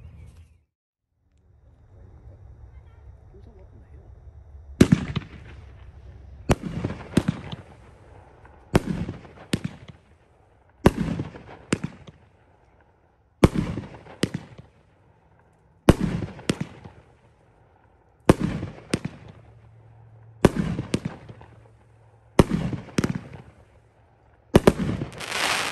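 Cherry Bomber 8-to-1 fireworks cake by Winda going off at a spring fireworks demo: a long run of about a dozen sharp, loud bursts, some in quick pairs, each followed by a crackling fall-off, with quieter gaps between.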